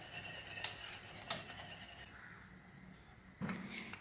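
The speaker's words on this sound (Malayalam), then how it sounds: "ഈ സമയം ഇതുപോലെ ഒരു വിസ്ക് കൊണ്ടൊന്ന് ഇളക്കി കൊടുക്കാം" A whisk clinks and scrapes inside a pot of boiling milk, with a few sharp metallic taps, a quieter stretch, then a renewed stirring clatter near the end.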